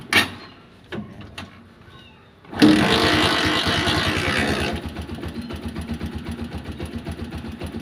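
A cold engine starts after a few clicks and settles into a close, steady idle while it warms up. A rough rising burst comes first, then a quieter rhythmic putter.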